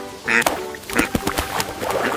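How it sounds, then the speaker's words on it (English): A duck quacks several times in quick, close, clear calls, alone and fairly loud. "This is a duck."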